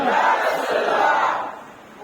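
A crowd at a religious gathering remembering Imam Hussain chants the Takbeer slogan in unison, a loud, fairly close swell of voices that fades toward the end.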